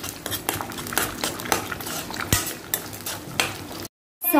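A utensil stirs and scrapes egg fried rice around a hot pan in quick, repeated clinks and rasps, close and fairly loud, ending in a brief silence.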